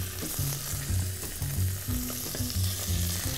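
Poultry leg pieces browning in hot fat, a loud close sizzle with bursts of spitting and crackling that continue steadily throughout, with no voices.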